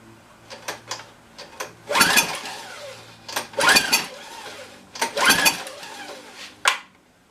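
A Tecumseh pressure washer engine with the choke on is cranked by hand, giving three strong pull-start bursts among shorter sputters and rattles, close and loud, never catching.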